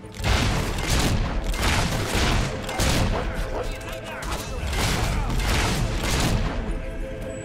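Gunfire in the Fable 3 video game battle, a rapid volley of loud repeated shots and booming impacts in irregular bursts, with voices and shouting mixed underneath.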